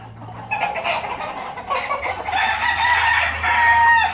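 A rooster crows loudly and drawn out, with other hens clucking and chattering around it in a busy farmyard.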